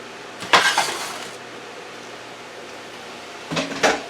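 Spare ribs set down into a pan in a home kitchen, giving two short clattering bursts of metal and glassy clinks separated by a quiet pause, close and fairly soft with no talking.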